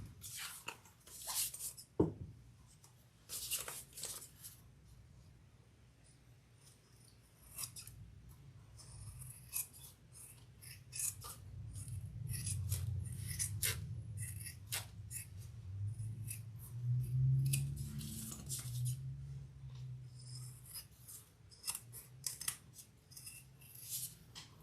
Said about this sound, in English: I'm going to get my sharp scissors.